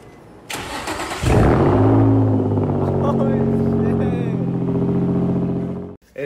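A Nissan 350Z engine cranks and fires up with a sudden roar, then settles into a loud, steady idle with a low harmonic hum before cutting off abruptly, with a voice talking over it.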